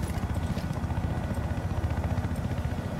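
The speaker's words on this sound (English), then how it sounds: "I hear a chopper, but I don't see where." Rapid rotor thumping of a helicopter in Battlefield 4 churns steadily, a low pulsing beat holding at a constant level throughout.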